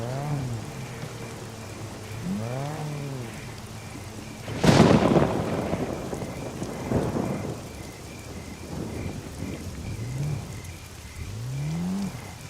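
Rain and rolling thunder in the survival video game SCUM: steady rainfall throughout, with a loud thunderclap near the middle and lower rumbles after it. A recurring harmonic swooping tone also sounds in the game.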